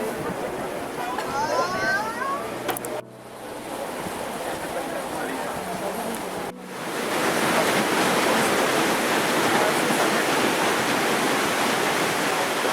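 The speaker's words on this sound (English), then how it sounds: "We are approaching this waterfall" A waterfall in a Norwegian fjord roars as a continuous broad rush, growing louder and denser partway through, with brief talk and boat noise early on.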